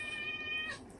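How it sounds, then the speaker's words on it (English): A hungry cat gives a single close, fairly faint meow that holds briefly and then drops away, with no speech. "that's my cat. Sorry, he's hungry."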